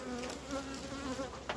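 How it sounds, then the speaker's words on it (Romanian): Honeybees around hive colonies during an inspection drone with a close, steady buzz that wavers in pitch as individual bees pass near, with brief faint clicks and no talk. "Albinele sunt un pic nervoase, fiindcă abia acum a dat soarele, până acum a fost frig."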